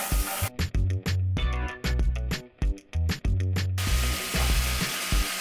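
Garlic, ginger and curry powder fry in a pot over medium heat for a Jamaican curry goat, giving a loud, continuous sizzle broken by sharp gaps under a tonal backing sound.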